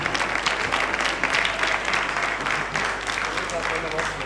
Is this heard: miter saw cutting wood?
no